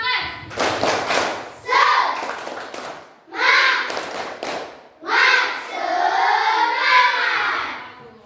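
A classroom of children claps a rhythmic spirit clap in several bursts of fast, loud claps with pauses between them, their voices chanting along.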